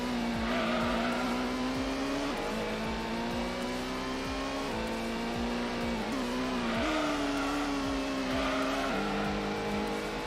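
Race car in the Gran Turismo video game under hard braking, engine dropping and revving with squealing tires, a continuous loud run of downshifts and screeching with no talk.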